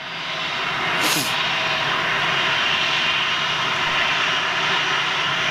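A passenger airplane lands at Manchester Airport. Its engines give a loud, continuous roar that swells over the first second and then holds steady and close. Faint voices can be heard under it.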